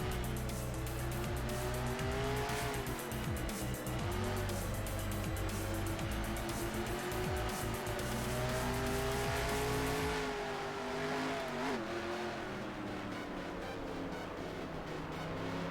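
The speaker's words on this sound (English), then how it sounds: "Still got some holes in my fenders, but hopefully the car will hold up." A race car in a racing video game drones loudly at high revs with shifting engine pitch and tire squeal, a continuous dense roar that drops back slightly near the end.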